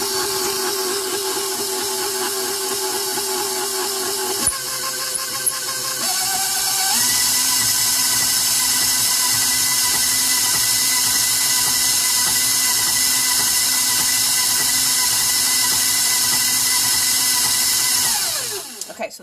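Electric mixer whirring through cinnamon bun cake batter, a loud, steady high-pitched motor drone that shifts pitch partway through and runs nearly twenty seconds before winding down and stopping.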